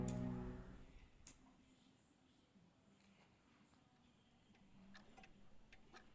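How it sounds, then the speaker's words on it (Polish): A swinging pendulum clock ticking faintly and steadily in a quiet room, its soft regular ticks following a brief murmur at the start. "Zegar kołysał się z boku na bok. Głośny, rytmiczny dźwięk z jakiegoś powodu budził w tobie lęk."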